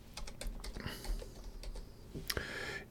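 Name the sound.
typing code on computer keyboard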